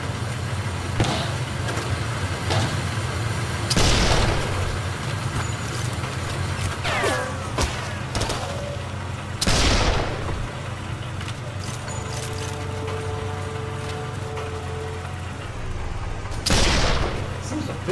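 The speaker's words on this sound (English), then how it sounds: "Shot heard." Sniper rifle gunshots in the VR shooting game Sniper Elite VR, a few sharp loud cracks spaced several seconds apart over a constant low game ambience and hum.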